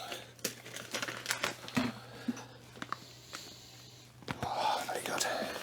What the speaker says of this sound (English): The bag will cut.